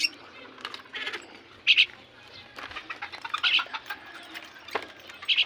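Three young tree sparrows in a cage give repeated short high chirps, with soft fluttering and rustling around them, fairly close, no talking.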